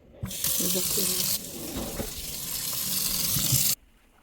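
Garden vegetables, cucumbers among them, are rinsed under a running kitchen tap, a steady broadband rush of water that pauses briefly midway, with splashing and knocking of produce underneath, then cuts off sharply near the end.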